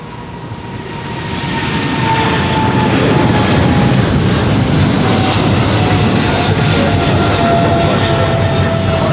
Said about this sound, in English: It's a 9-year-old 777 freighter in the X-LAN livery.